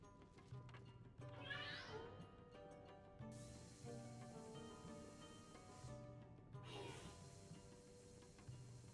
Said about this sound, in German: Oh mein Gott, hasse ich diese scheiß Katze.